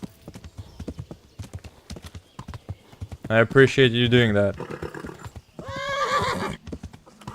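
In Kingdom Come: Deliverance, a horse's hooves clop in a steady rhythm, then it lets out two loud, drawn-out whinnies close by, with a brief line of speech near the start.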